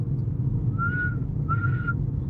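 A person whistles two short, clear notes, the second slightly longer, over a low steady background hum with no speech.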